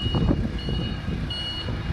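Repeated reversing beeps from a forklift backing up slowly on a training course, a steady high-pitched alarm over low engine rumble, moderately close.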